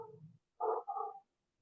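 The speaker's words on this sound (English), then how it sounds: "I'm outside, so pardon the dogs barking." Dogs barking outdoors in a backyard: a low growl-like bark followed by two sharp, close barks in quick succession, then quiet.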